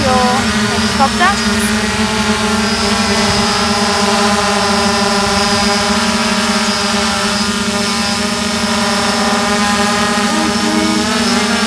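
Steady, loud whine of an RC helicopter with a Zero UAV YS-X4 flight controller coming in to land, its motor and rotor tones holding nearly constant with slight pitch wavers close to the microphone.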